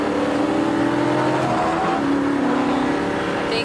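A supercharged V8 car drives on a slippery surface, its engine droning and revving steadily close by, with pitch shifting slightly as the throttle changes.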